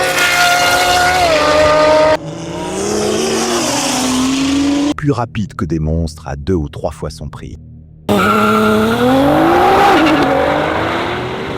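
A Nissan GT-R sports car drives hard with engine roar and tire squeal, the tone shifting as it accelerates, heard loud under a dramatic French narration that continues over the sound.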